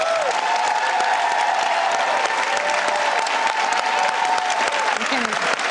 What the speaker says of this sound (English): Spontaneous standing ovation for Dr. Mona.